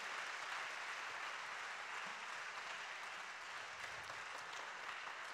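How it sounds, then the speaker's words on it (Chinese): An audience at a seminary's fiftieth anniversary and dedication ceremony applauds, a dense, even wash of clapping that holds steady throughout at moderate distance, with no voices over it. "让我们再一次一同鼓掌，将最大的赞美与荣耀归给我们的神"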